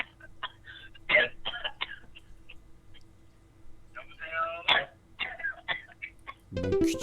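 A few sharp, throaty coughs break up a quiet phone-line conversation, one burst early and another midway, with a loud rough cough near the end.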